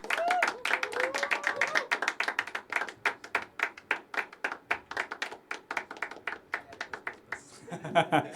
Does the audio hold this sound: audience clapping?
yes